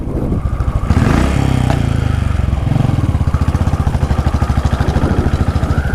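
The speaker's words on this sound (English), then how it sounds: "this motorcycle accelerates really nicely, and the acceleration along with this sound" A Royal Enfield Classic 500 Desert Storm single-cylinder motorcycle revs up sharply and then settles into a loud, close, rhythmic thumping exhaust beat as it accelerates, with no talking.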